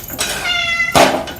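A house cat meows a single drawn-out, tonal call, followed by a short, louder burst near the end, heard fairly close in a quiet home kitchen.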